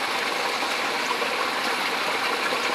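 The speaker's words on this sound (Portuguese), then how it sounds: "Dá para escutar o barulho da água, certo?" Water flowing in a marshy garden, a steady even rushing hiss of moving water, continuous and fairly close with no talk or distinct events.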